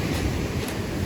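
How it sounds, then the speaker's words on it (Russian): Stormy sea surf rolling onto the Crimean coast at Kurortnoye, a steady broadband roar of breaking waves mixed with wind buffeting the microphone, continuous and fairly loud with no voices. "Вот такое море. Да, друзья, шторм у нас."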